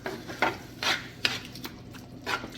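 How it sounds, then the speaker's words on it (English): A spoon stirs stewed tomatoes into a pan of lasagna sauce. The sound is a close series of soft scraping strokes against the pan, about five distinct swishes at an uneven pace, with no talking. "I'm going to add them to my pan and combine them with the other ingredients"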